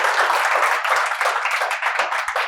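An audience claps and applauds continuously in a loud, rippling burst that carries on steadily without a break.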